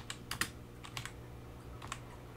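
Quiet keystrokes tap on a computer keyboard in short, uneven clusters of clicks, faint against a low room hum.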